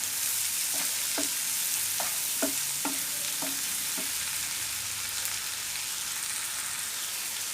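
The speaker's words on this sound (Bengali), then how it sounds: "এর ভিতরে আমরা হলুদ আর লবণটা দিয়ে দিব, দিয়ে নাড়তে হবে" Frying onions sizzle steadily in a pan while turmeric and salt are stirred in for an ilish fish bharta, a spoon scraping in a few distinct strokes early on over the constant close hiss.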